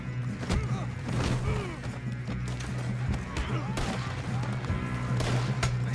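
Gunfire in Red Dead Redemption 2: several sharp shots and thuds scattered through a busy battle scene with hoofbeats and a steady hum, while voices shout over the action.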